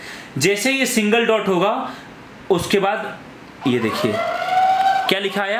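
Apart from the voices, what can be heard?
phone app siren alarm when tracker tag disconnects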